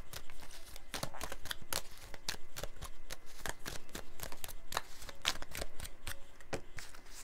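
Oracle cards are shuffled by hand in a continuous crisp riffling and slapping patter, close to the mic, soft and with no talk.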